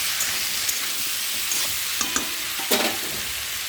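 Prawn, potato and taro curry sautéing in a pan, a steady close sizzle with scraping stirs and a few sharper clinks of the utensil, no voice.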